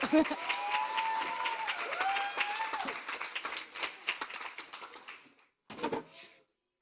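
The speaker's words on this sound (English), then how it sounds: "Now you can clap." Audience applause with clapping at a socialist feminist meeting in Ireland, dense and sustained with cheering voices over it, then fading out into a brief quieter burst near the end.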